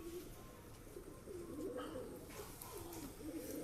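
Wet pigeons, including a Shahjahanpuri, coo in soft repeated low rolling calls, faint and close against a background hum.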